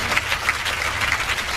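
An audience at a Lakshmi Narayan temple gathering applauds the temple committee, a dense, continuous rush of many hands clapping together, fairly loud and sustained for the whole moment.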